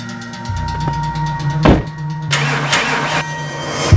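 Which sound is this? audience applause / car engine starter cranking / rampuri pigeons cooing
car engine starter cranking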